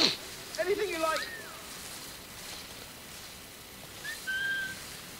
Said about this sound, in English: Oh, dude, you can whistle?